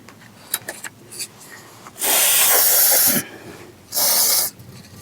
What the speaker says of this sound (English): Sort of spray all those down a little bit.